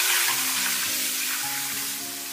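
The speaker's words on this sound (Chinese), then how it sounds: "再下入葱和小米椒，给它煸炒出香味" Scallions and small chilies stir-frying in lard and oil, giving a steady, loud hiss and sizzle with faint stirring, and no talk.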